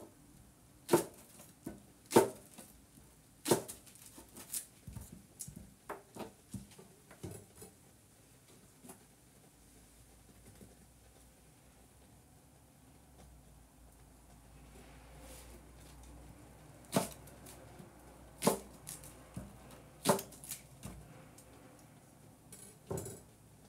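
A dulling kitchen knife strikes a cutting board sheet in scattered sharp taps, some louder clusters of chops separated by quieter stretches, with faint kitchen background.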